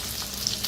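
Green chilies fry in a pan with salt and garam masala, a continuous soft sizzle with light stirring scrapes and a few brief crackles, no voices.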